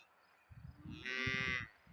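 A young bull moos once, close and clear, a long drawn-out low call rising into a louder bellow before trailing off, out in open countryside in Ingushetia.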